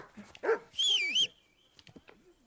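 Dog in Kingdom Come: Deliverance II: a couple of short, sharp bark-like yelps followed by a higher whining whimper, fairly close, then quiet with faint background clicks.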